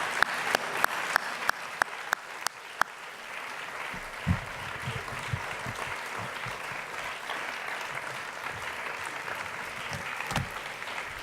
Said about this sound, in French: un applaudissement pour nos panélistes sera